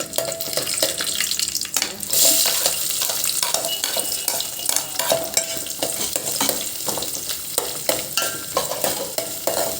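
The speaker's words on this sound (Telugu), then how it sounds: "ఆవాలు జీలకర్ర కొంచెం శనగపప్పు లైట్గా వేసేస్తే చాలు" Mustard seeds, cumin and chana dal frying in oil for a drumstick and tomato charu, a dense, steady crackling sizzle with frequent close stirring scrapes against the pan.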